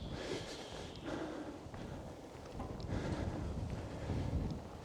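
Strong wind buffets the microphone on a mountain summit, a steady low roar with gusty swells, close and fairly loud, with no one speaking.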